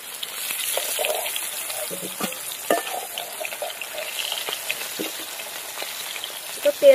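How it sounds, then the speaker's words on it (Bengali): Hilsa fish sizzles in hot mustard oil in a pan, a steady faint frying hiss with scattered pops and a few clinks of utensils. "এবার মাছগুলো ভেজে নেব।"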